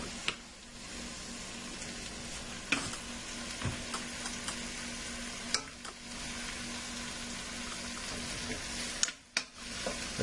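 Chicken pieces fry in a pan with a constant soft sizzle, broken by occasional clinks and scrapes of a utensil stirring and turning the meat.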